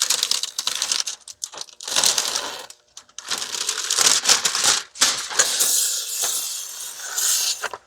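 Plastic liner peels off window tint film on a 2020 GMC Yukon front door window. It makes loud, close crackling and crinkling in repeated long rips broken by brief pauses, with no talking.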